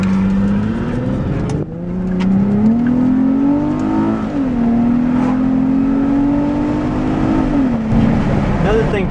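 Car engine revving in the cabin as it is manually downshifted using hand controls, pitch climbing and stepping between gears in a steady loud drone, with a sharp rev blip near the end; people talk over it.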